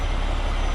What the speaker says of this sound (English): shifting to neutral, the parking brake